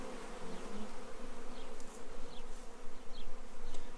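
Honeybees from a newly installed package swarm around an open hive, a dense, steady buzzing hum close by with individual bees droning past, no voices.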